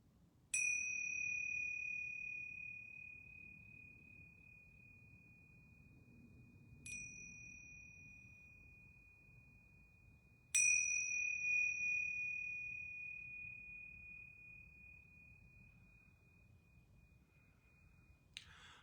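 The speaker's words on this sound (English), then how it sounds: "going to ring these yoga bells 3 times." Yoga bells ring three times, each clear, pure tone struck and left to ring out slowly, long sustained shimmers in a quiet room.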